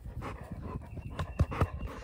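A puppy pants quickly in a home, the breathy rhythm over about two seconds with a couple of louder bursts near the end, close to the mic.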